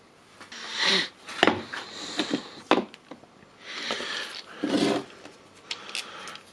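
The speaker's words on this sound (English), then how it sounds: "I will brush out the dirt" A brush scrubbing dirt out of a disassembled Makita DHP484 cordless drill, uneven bursts of scratchy rubbing and bristle strokes with short gaps, close and fairly quiet.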